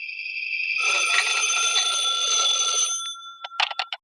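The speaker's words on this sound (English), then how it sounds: "When I got home, the phone was ringing." Telephone in a radio drama rings with a bright, sustained electric bell trill lasting about two seconds, followed by a few short, sharp chimes, close and clear with no voices.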